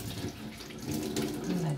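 Tap water runs steadily from a faucet to wet a duo cleaning pad at home, a continuous close splashing stream that grows slightly louder toward the end, with no talking.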